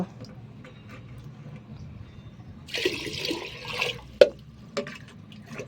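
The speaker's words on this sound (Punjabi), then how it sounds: "ਲੱਗੇ ਆ ਪਾਣੀ ਪਾਉਣ ਹੁਣ ਚੱਕਰਿਆਂ 'ਚ" Water poured into pigeon drinking bowls gives a short splashing gush in the middle, followed by a sharp knock and a few soft drips, close by in a quiet setting.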